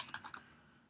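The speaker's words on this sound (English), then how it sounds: "I'm just going to type a few things here." A short run of three or four quick keystrokes on a computer keyboard, close and soft, fading into quiet room tone with no talking.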